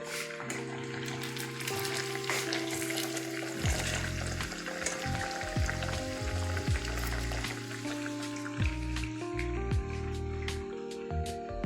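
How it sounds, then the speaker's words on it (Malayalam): Steady, loud crackling sizzle of aval (flattened rice) vada deep frying in hot oil, continuous throughout with occasional bubbling bursts. "വട വറുത്ത് പാകമായി കോരിയെടുക്കുക"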